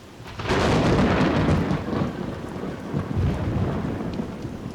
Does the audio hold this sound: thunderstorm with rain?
yes